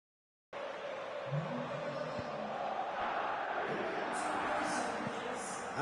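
Football stadium crowd at a 1995 Italian cup match applauding a substituted player, a steady broad roar of clapping and cheering that holds throughout, with some whistles rising near the end.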